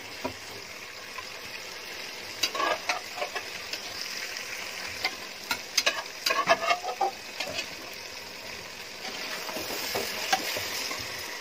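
Soft, low sizzling and intermittent scraping of a spoon in a biryani pot as boiled mutton is added and stirred, faint and close, with scattered light clinks.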